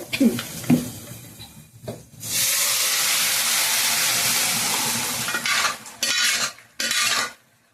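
A few clinks, then a loud sustained sizzle as cooked dal hits hot oil, followed by stirring scrapes and short bursts of hissing, with some talk early on.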